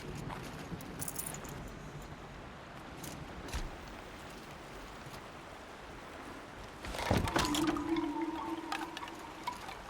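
Water rushes steadily from a waterfall in the video game Horizon Zero Dawn, a continuous wash of sound with a few brief knocks and a louder burst of activity near the end.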